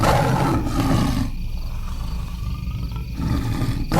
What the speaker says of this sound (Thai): เองไม่ต้องมาคำรามใส่